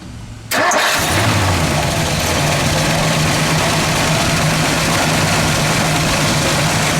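A 1960 Edsel Ranger two-door hardtop fires up after a brief crank, then settles into a loud, steady idle through its dual exhaust, filling the rest of the moment with a rough continuous rumble.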